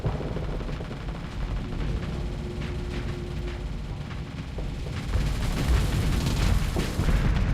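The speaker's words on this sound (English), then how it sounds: "They like to set my point defense on auto fire." Point defense guns on a ship in the space combat game Starsector firing automatically, a dense continuous rattle of rapid gunfire and low booms that swells louder toward the end, with no talking.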